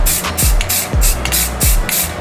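An aerosol can sprays paint onto a rifle in three or four short hissing bursts, close and fairly loud, separated by brief pauses.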